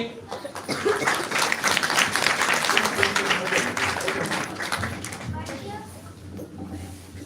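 Church congregation at an Eternal Life Church Christmas service applauding together, a dense sustained wash of clapping that swells for several seconds then gradually thins out, with some voices mixed in.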